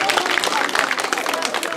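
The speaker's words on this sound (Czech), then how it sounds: "zatleskejte asistence" At a garden opening in Ostopovice, a children's crowd applauds a magician's assistant with loud, dense, close clapping that fills the whole moment. Voices mix in with the clapping.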